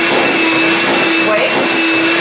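Electric mixer runs loud and steady, whirring close by through a batter of sugar beaten with egg whites.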